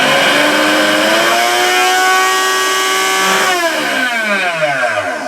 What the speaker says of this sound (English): it'll basically run the blender for 30 seconds